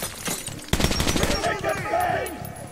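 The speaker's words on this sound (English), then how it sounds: "Well, I guess we are just going the shooting route." Video game gunfire from a prison escape game, a sudden burst of rapid automatic shots that keeps rattling on under a voice, dense and loud with short echoing tails.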